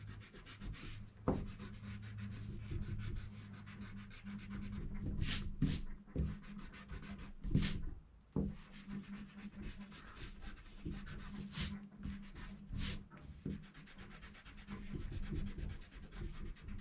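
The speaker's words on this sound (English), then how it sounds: "I'm going to take my eraser and now I'm going to erase." A pencil eraser rubs back and forth across paper while a nutcracker drawing is being erased, making soft, scratchy strokes that repeat irregularly with brief pauses, close to the microphone. No one speaks.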